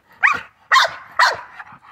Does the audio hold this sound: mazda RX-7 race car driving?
no